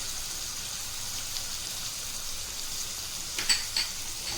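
Tomatoes and salt sizzle in a pan for mushroom curry, a steady soft frying hiss throughout with a few brief crackles and pops near the end, close and fairly quiet.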